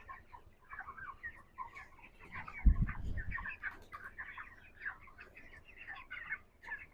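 Broiler chickens about 28 days old cluck steadily in a poultry house with litter flooring, a dense chorus of overlapping calls, with a brief low thump near the middle.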